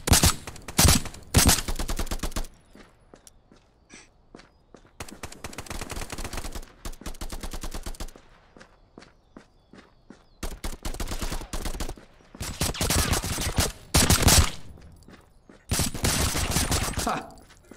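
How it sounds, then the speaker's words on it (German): Bursts of automatic gunfire in the VR shooter Contractors, loud, close rapid volleys separated by short pauses and single shots, repeating across the whole stretch with no speech over it. "Da habe ich einfach mal kurz blind in die Luft geschossen."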